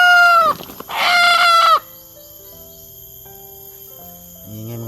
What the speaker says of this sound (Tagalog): Yan mga tol, manok.